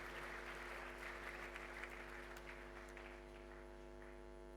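A congregation ceremony audience applauds, a broad, faint wash of clapping heard over a strong steady electrical mains hum.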